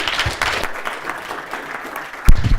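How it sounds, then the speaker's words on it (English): An audience at a tech conference talk claps warmly, a dense patter of hands that runs on for a couple of seconds, ending with a louder bump near the end. "please give a round of applause for Johnny and Emiel"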